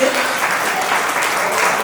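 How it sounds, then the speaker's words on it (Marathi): Loud, sustained applause from a crowd at a family birthday celebration honoring grandparents, dense steady clapping filling the whole short stretch. "एकदा रिधिशाच्या आजी आजोबांकरता जोरदार टाळ्या वाजवूया"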